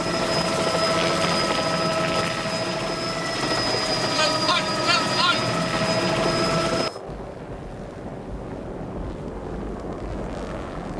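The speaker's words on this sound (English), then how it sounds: "As Pete steers the helicopter closer" A helicopter herding wildlife toward a boma in the African bush, its rotor and engine whine loud and steady before cutting off sharply to a quieter wind-filled background; a voice speaks over it.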